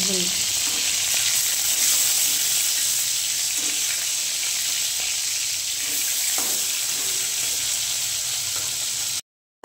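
Ginger, garlic, onion and panch phoron spices fry in hot oil for a fish curry, giving a steady, dense sizzle with occasional stirring scrapes, close and loud throughout before cutting off at the very end.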